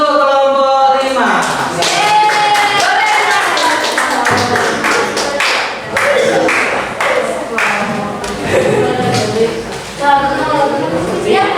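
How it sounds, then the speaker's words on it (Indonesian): Classroom applause for a student group, made up of many hands clapping in quick, dense bursts that carry on for several seconds, with voices mixed in. "Tepuk tangan untuk kelompok 5."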